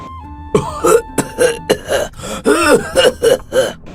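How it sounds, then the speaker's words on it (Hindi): Close, loud bouts of harsh coughing and throat clearing from a cartoon lion, about eight rough bursts in quick succession with brief gasps between. "अचानक शेरशाह खांसने लगता है"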